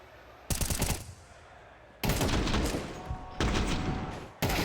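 Rapid automatic gunfire in Counter-Strike, heard in several loud sustained bursts separated by short pauses, with dense clattering shots over a faint background.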